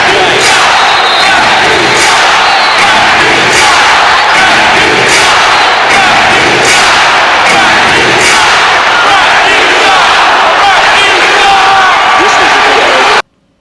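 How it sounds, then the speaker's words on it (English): A football stadium crowd chants and yells continuously, loud and dense, with rhythmic bursts in the noise and no single voice standing out. "Listen into the crowd."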